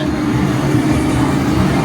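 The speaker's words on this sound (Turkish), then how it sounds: "Araba yarışı oyunları var." An arcade car racing game in a Japanese game center gives a loud, steady engine drone with a rumbling low end. It runs continuously through a short stretch and blends with the busy hall noise.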